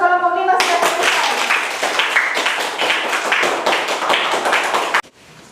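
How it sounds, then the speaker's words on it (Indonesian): Classroom of schoolchildren clapping for group 5 after an experiment, a dense burst of many hands that starts abruptly, stays loud and close for several seconds, then stops sharply. "Bagus, tepuk tangan untuk kelompok 5 sudah selesai."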